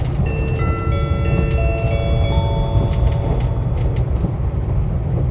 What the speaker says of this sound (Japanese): ここで反対方向の特急列車と行き違いを行います。